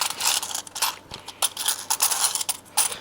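Coins rattle and bounce through the holes of a coin sorting bank, a busy series of clinks and metallic ticks in irregular bursts at close range, with no talking.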